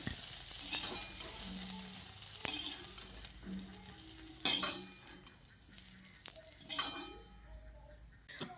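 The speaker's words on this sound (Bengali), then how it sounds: "এবার আলুটাকেও লালচে করে ভেজে নেব।" Potatoes frying in mustard oil in a pan (kadai) for a soybean and potato curry, a steady sizzle with repeated scraping and clinks of a spatula stirring against the metal pan, close and fairly quiet.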